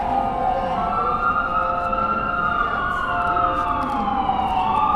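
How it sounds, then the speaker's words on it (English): A wailing emergency siren from a fire truck or ambulance on a busy New York City street during a December Christmas-season walk, sweeping up and down continuously and steadily loud over dense traffic rumble. "Sounds like a fire truck or an ambulance coming."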